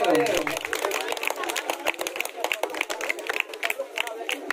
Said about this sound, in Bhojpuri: तालियां बजाते रहिए प्लीज।